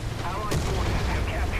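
A tank gun firing in a video game, the Su-100Y with its 130mm gun: one heavy boom with a sharp crack, then low rumbling background noise.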